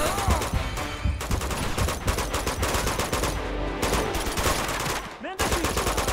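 Gunfire in Uncharted 2, rapid bursts of automatic weapon fire and sharp shots crackling continuously and loudly, with a short pause near the end before firing resumes.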